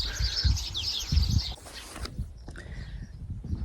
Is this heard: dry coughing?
no